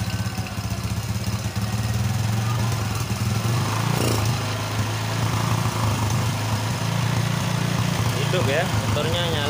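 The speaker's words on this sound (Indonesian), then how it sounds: "Hidup ya, motornya nyala." A Honda Supra X125 motorcycle engine starts and settles into a steady idle, a continuous low rumble running throughout with some background noise.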